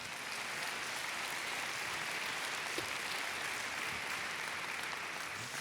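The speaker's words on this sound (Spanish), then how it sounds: "Dele palmas al Señor." A church congregation claps steadily during a Christmas service sermon, a dense, even wash of applause that fills the whole stretch without pause and with no voices over it.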